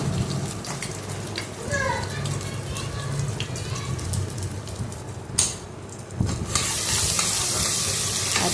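Ginger garlic paste frying and being stirred in a pan for vegetable biryani, a steady crackling sizzle broken by scraping and clinks of the spoon, with a louder hiss surge near the end.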